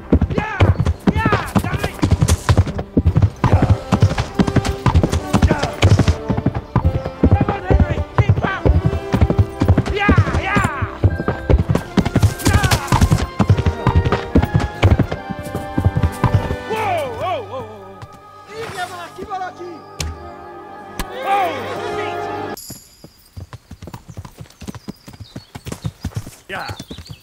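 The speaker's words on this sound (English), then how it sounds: "Have you got a horse? Yes. Really? What is it? A cart horse? Mount up, Henry." Rapid, rhythmic hoofbeats of a galloping horse in the video game Kingdom Come: Deliverance, loud and continuous, with shouting voices over them, then slowing into clatter and talk.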